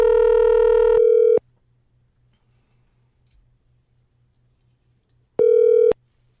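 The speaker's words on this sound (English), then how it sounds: "I would like to call right now and see if I can get him on the phone" Telephone ringback tone on an outgoing call: two loud electronic rings about four seconds apart with near silence between them.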